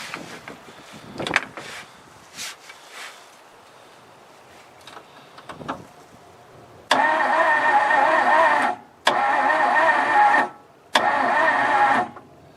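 A 1954 Ford Crestline Skyliner's engine cranks over in three long bursts separated by short pauses, loud and close, after some quiet clicks and handling noises.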